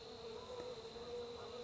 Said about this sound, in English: now going to let the bees out